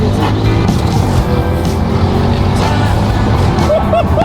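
An Audi RS6 GT3 car drives fast, its engine note steady and loud throughout, with the drone continuing close by and unbroken for the whole stretch and a brief tire-like squeal near the end.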